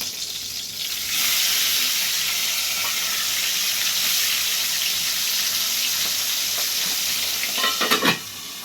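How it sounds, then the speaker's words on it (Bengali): Pabda fish frying in hot oil in a pan, a loud, steady sizzle that runs continuously for several seconds with a few spatters and clatters near the end, no voices. "পাবদা মাছটা ভাজা হয়ে গেছে।"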